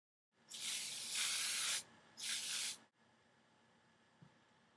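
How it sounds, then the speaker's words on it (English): Two bursts of hairspray from an aerosol can hiss over curled hair, a long one followed by a shorter one, close and loud, then quiet background. "you want to spray it with some hairspray so the curls will last"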